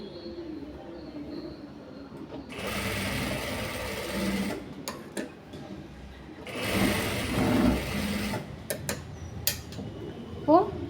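A sewing machine stitches darts on the front of a blouse, running in two sustained bursts of close, steady motor whir with a short pause and brief clicks between them.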